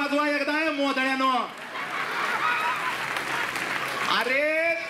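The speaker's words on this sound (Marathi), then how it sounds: "स्वतःसाठी टाळ्या वाजवा एकदा" An audience claps briefly at a comedy show during a festival, the applause filling the middle of the clip between stretches of a voice speaking loudly before and after it.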